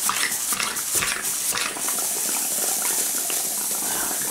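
Boiling water spits and sputters from a live steam engine, crackling bursts and hissing steam in an irregular rhythm, close and fairly loud with no voices.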